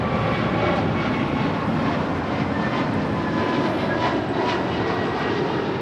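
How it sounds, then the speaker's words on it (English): An Alaska Airlines Airbus A321neo departs, giving a steady, loud, continuous jet engine roar with a broad rushing rumble and faint whining tones throughout. "That is Alaska 286 departing to Newark on an A321 Neo"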